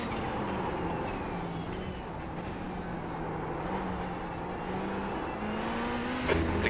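Ferrari GT3 race car in a racing video game at Sebring, its engine droning steadily throughout at moderate level with shifting pitch, no talking.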